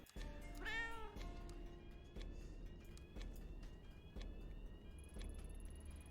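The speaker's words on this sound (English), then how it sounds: "Oh, there's a cat." A cat meows in the Tokyo Dark video game, one drawn-out, rising and falling meow near the start, followed by quieter game ambience with faint tonal hums and a high whine.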